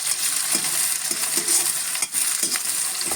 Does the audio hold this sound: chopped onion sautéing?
yes